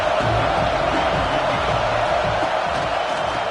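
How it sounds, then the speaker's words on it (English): A dense football stadium crowd at a college game between KML and Michigan roars in a steady, loud wall of cheering and noise. "This crowd knows when to bring it."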